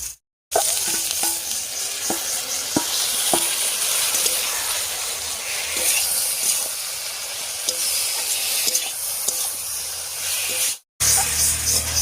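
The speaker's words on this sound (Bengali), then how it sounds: "এবারে বাটা মশলাটা দেবো।" Loud, steady sizzling and hissing of a frying pan as ground spice paste goes in with koi fish, green chilies and other ingredients, with scraping stirs tapping through the continuous fry.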